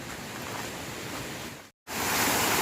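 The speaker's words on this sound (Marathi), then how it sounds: "हा बघा परत एक झरा झराचा आवाज एकदम खळखळ खळखळ" A rushing waterfall-fed stream on a rainy monsoon day in Sakhalkond, Sangameshwar, Ratnagiri, gives off a steady broad watery roar, briefly cutting out then returning louder, with no voices.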